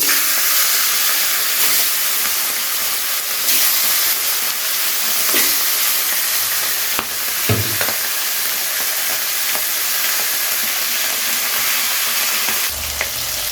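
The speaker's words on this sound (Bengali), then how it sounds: "মাথাগুলো ভেজে নেওয়া হয়ে গেছে" Fish heads fry in hot oil with loud, steady sizzling and hissing throughout, broken by a few clinks and scrapes from stirring in the pan.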